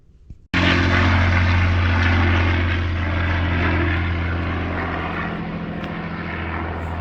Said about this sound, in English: I didn't quite get my camera out quick enough to catch the Lancaster. It literally flew right over my head.